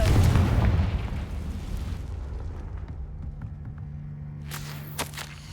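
A Confringo fire spell bursts in Hogwarts Legacy, a loud booming explosion at the start that decays into a long rumbling tail, followed by quieter game ambience and a few faint clicks.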